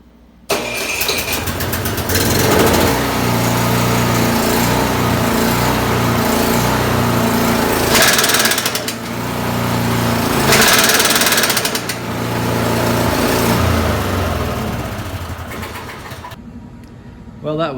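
A Craftsman snowblower engine with a damaged impeller runs loud and rough with a harsh mechanical clatter, surging and easing in waves for about sixteen seconds before it cuts off. Faint talk may sit beneath it.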